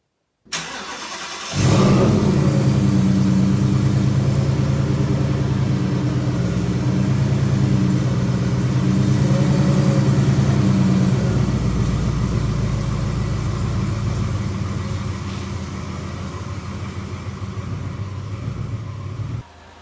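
A 2011 Ford Escape engine starts and runs steadily at close range, a low continuous rumble with a slight rise in revs as the SUV pulls into a garage, then cuts off at the end.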